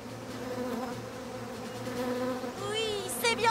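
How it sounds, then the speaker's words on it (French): Cartoon bees buzz in Robocar POLI, a steady droning hum of the swarm held close and fairly loud throughout, with a brief higher chirpy sound near the end. "Polly, je vais emmener les abeilles plus loin, dans un endroit tranquille."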